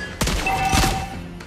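Lesley firing in Mobile Legends: Bang Bang, a couple of sharp, loud game gunshots with a short ringing tail, alone without talk.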